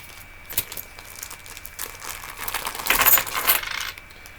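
Silver dimes and quarters from coin hunting handled in flips and baggies, light metallic clinks with a brief plastic crinkle, a cluster of bright jingles building in the middle then fading, close and alone.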